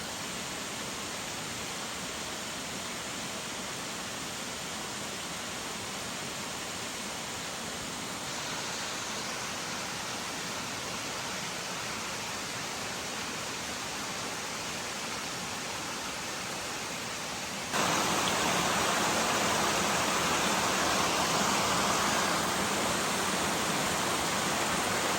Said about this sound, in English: a beautiful waterfall. It's taller than Crabtree, but it's not as much water volume, not as broad.